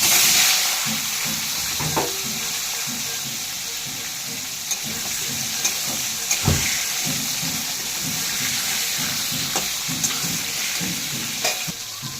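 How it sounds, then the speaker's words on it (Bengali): Potatoes frying in a pan, a steady loud sizzle with occasional stirring scrapes and clicks running throughout. "আলুগুলো ভেজে নিলাম।"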